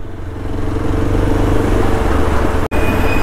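A Yezdi Adventure 2024 motorcycle rides through heavy road traffic on the Bhayander creek bridge, with a loud, close engine drone and rushing wind and road noise, plus a brief sharp break near the end.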